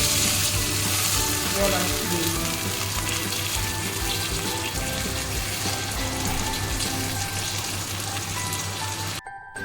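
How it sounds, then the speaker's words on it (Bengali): Water added to hot oil in a pan while cooking singhi fish curry sets off a loud, continuous hissing sizzle that fills the clip and holds steady until it cuts off at the end. "এবার জল দিয়ে দিলাম"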